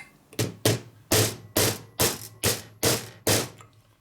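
Eight sharp, evenly spaced taps of a plastic hammer striking a valve spring retainer during a Harley-Davidson Shovelhead engine top-end rebuild, loud and close, with no voices.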